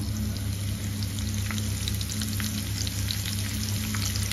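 Fresh curry leaves frying in hot oil for a green tomato pickle, giving a steady, dense sizzle with fine crackling pops throughout, close and fairly loud, with no voices.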